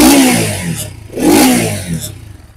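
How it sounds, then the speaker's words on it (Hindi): A Bajaj Pulsar 200 motorcycle engine revs twice in quick succession, its exhaust note rising and falling loudly and close up, with no talk over it. "मैं एक बार एग्जॉस्ट नोट सुना देता हूं।"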